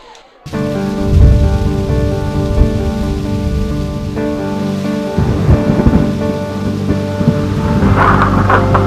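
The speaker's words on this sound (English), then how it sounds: "National Weather Service has issued a severe thunderstorm warning" Severe thunderstorm with heavy rain during a high school football game broadcast: loud, steady rain roar with rolling thunder rumbles and a constant tonal hum beneath, no voices.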